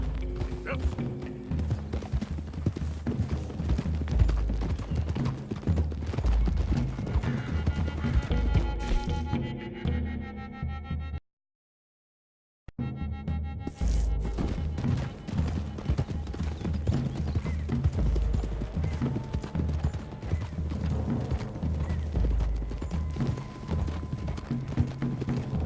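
Rhythmic clip-clop of several horses' hooves on a dirt road in Red Dead Redemption 2, steady and close, with creaking tack and a moment of total silence partway through.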